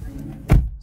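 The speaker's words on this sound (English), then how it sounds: "close the door" A car door on a 2019 Lexus ES 250 swings shut with a single solid, low thump, close by, after a quiet stretch.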